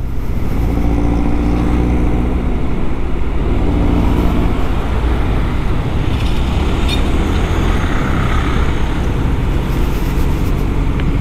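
A Honda Vario 160 scooter rides a winding mountain road, its engine drone and wind rush steady and loud throughout, with no speech and no breaks.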